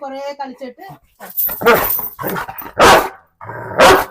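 A dog barks in sharp, loud bursts, several in a row with pauses between, near and clear; a voice speaks briefly beforehand.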